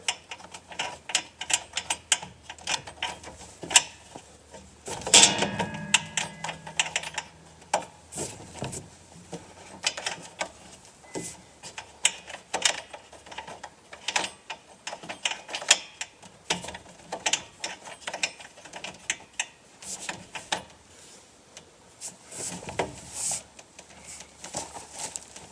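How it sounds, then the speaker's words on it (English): A ratchet runs down a lock nut on conduit inside an electrical box for an underground 50 amp RV shore power service, giving bursts of rapid clicking with scraping and clunks against the metal box, fairly close, with no talking. "Put my lock nut on."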